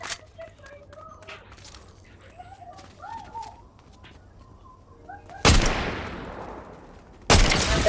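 Sniper fire in an online shooter video game: two loud, sharp cracks with long ringing tails, a couple of seconds apart, following quieter voice chatter and game sounds.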